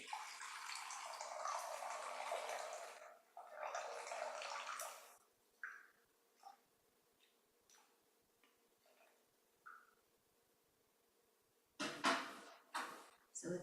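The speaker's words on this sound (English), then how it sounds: "I'm going to go ahead and pour my tea." Tea being poured during a quiet tea ceremony, two long trickling streams of liquid followed by soft clinks, drips and a final splash, close and gentle.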